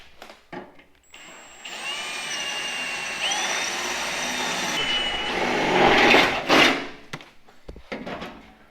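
A power drill working on an off-road rollback truck build: a whirring, rising motor whine that holds for several seconds and then winds down, with brief clunks of handling around it.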